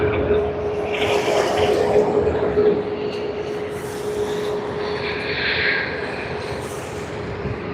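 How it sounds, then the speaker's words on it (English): An Airbus A330-200 in oneworld livery at Sydney Airport, its jet engines a steady broad roar with a sustained tonal whine, heard from nearby and fairly loud throughout. "A330-200 with a One World livery making its way to Jakarta, Indonesia."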